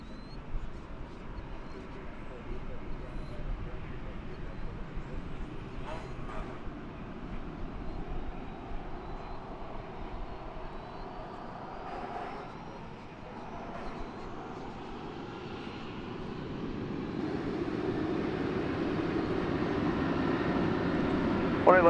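An American Airlines jet taking off from runway 18 Left at DFW Airport, a steady broadband engine roar heard from a distance that builds gradually louder toward the end.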